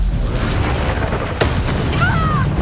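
A Confringo blast spell from the video game Hogwarts Legacy goes off as a sharp burst that swells into a loud, sustained rumbling boom. Game noise runs underneath throughout.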